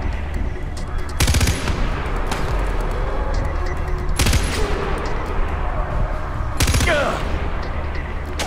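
Gunfire in the video game Far Cry 4, with three short loud bursts standing out over a steady, dense wash of battle noise and background sound.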